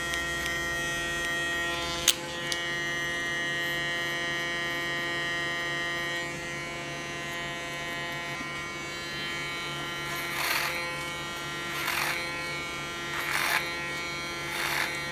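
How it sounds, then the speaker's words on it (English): An electric hair clipper buzzes steadily as it cuts a woman's hair, a close continuous motorized drone with a few brief surges and scraping passes through the hair near the end. "Use my clipper as a comb."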